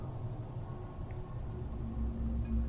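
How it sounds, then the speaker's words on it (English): Steady rain pattering on a tent at night in deep woods, a dense, even hiss with no breaks, close and moderately quiet, with no voices. "the rain bouncing off my tent were a great comfort"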